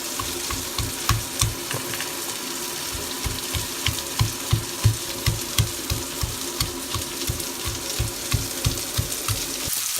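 Onion and tomato for a crab curry sauté in a hot pan, a continuous sizzle under a steady rhythm of spoon strokes scraping and stirring about twice a second, close and unaccompanied by speech.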